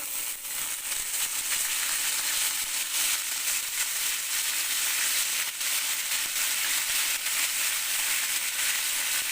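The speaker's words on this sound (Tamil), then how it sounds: "கடுகு போட்டுக்கலாம் கடுகு புரிஞ்சிட்டு கருவேப்பிலை போட்டுக்கலாம்" Mustard seeds and curry leaves sputter and sizzle in hot oil in a pan while a vegetable stir-fry is being cooked, giving a steady, dense crackling hiss that runs unbroken throughout, close and fairly loud.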